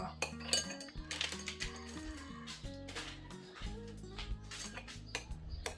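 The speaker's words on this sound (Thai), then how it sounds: "คนให้เข้ากันนะคะ" A spoon stirs squid marinade with turmeric in a bowl, giving quiet repeated clinks and scrapes of utensil against dish over soft background music.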